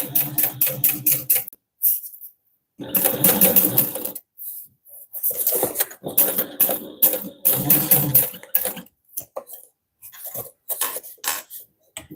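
A sewing machine top stitching in loud, fast bursts of rattling stitches, stopping and starting several times with short silent gaps between runs.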